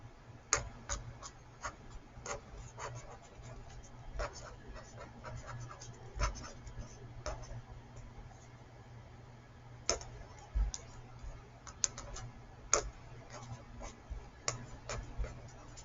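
A pen scratches out a tip on paper during a place-value rounding lesson, with faint, irregular ticking and scratching strokes close by over a low hum and no speech.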